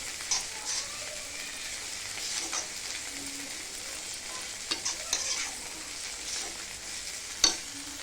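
Tomatoes and onions sauté in a pan with a soft, steady sizzle, and a utensil stirs them with occasional light scrapes and taps, fairly quiet and with no voices.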